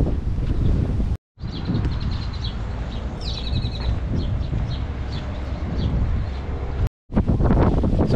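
Loud gusty wind buffeting the microphone outdoors at Eagle Beach, Aruba, with faint bird chirps in the background and two brief cutouts.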